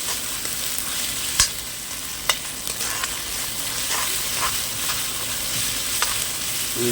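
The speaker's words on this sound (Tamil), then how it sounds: "தக்காளி போட்டாச்சு போட்டு நல்லா வணக்கிக்கலாம்" Tomatoes for chicken sukka sauté in an iron kadai with a steady, close sizzle and a few sharp clicks of a spoon stirring against the pan. No one speaks.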